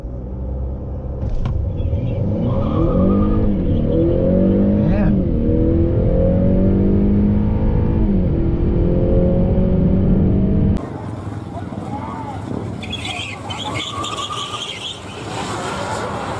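A 2020 Tesla Model S Performance dual-motor all-wheel-drive car accelerating hard in a drag race against a 2020 Honda Accord Sport 2.0T; a loud, continuous rising whine and roar of road rumble, with people talking over it.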